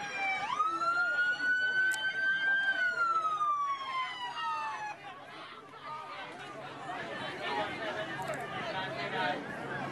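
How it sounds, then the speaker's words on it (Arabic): Police car sirens at a student protest in California: a loud, close wail sweeps up and down for several seconds, then gives way to a restless crowd murmur with voices talking and shouting. "صافرات سيارات الشرطة تسمع بوضوح في هذه التظاهرة في كاليفورنيا"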